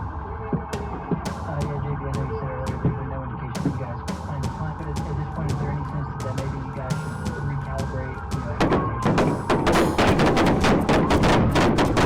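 Gunfire on a police dashcam at the violent end of a high-speed chase involving a stolen vehicle: loud sharp cracks repeat throughout over a steady droning background, then turn into a denser, rapid burst of shots near the end.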